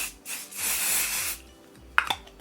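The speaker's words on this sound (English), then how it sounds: "Comes in a little can, so it's really easy to just spray." Short bursts of body spray from a small aerosol can, a sustained hiss lasting about a second after a brief first puff, followed by a few light clicks and taps of the can.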